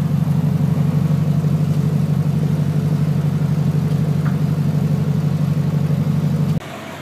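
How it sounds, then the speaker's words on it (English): A 1992 Chevrolet Corvette convertible with Magnaflow exhaust idles with a deep, steady exhaust rumble, loud and close, cutting off abruptly near the end. "Let me let you hear the exhaust, the Magnaflows."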